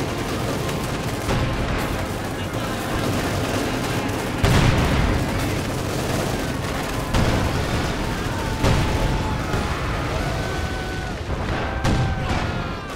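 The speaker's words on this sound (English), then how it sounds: "Nice bit of incendiary artillery there" Incendiary artillery shells land in Company of Heroes 2, a dense rumbling barrage of booms and crackling fire under layered battle noise, with a few sharper blasts rising out of the steady roar.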